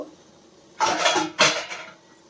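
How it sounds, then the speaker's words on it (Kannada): Two sharp metallic clanks close by as a lid is set onto a kitchen pot after the stove is turned off while making vada, each with a short rattling ring before fading, with quiet surroundings between. "ನಾನು ಸ್ಟವ್ ಆಫ್ ಮಾಡಿದ್ದೀನಿ ಈಗ ಲಿಡ್ ಕ್ಲೋಸ್ ಮಾಡ್ತೀನಿ"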